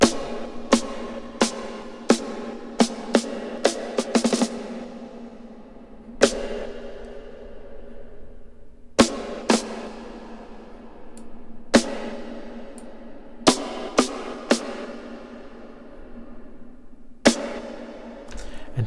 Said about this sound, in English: I'm soloing the snares.